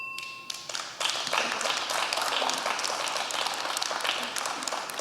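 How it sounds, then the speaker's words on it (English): Audience applause erupts at a high school town hall debate, a dense sustained wash of many hands clapping after a brief tone and a few early claps, continuing at steady volume to the end. "I ask that the audience please refrain from applaud while the debate is in progress"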